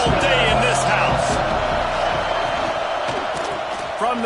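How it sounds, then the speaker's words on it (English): A steady stadium crowd roar fills a college football video game in a Penn State dynasty, a continuous wash of fans under the broadcast commentary. "This crowd trying to show them what it's going to be like all day in this house."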